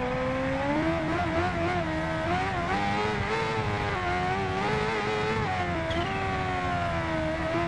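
A 2015 Kawasaki Ninja H2R motorcycle engine revving in the video game Ride 2, a loud, continuous high-pitched whine that climbs and dips slightly as the throttle is held open, with no voices.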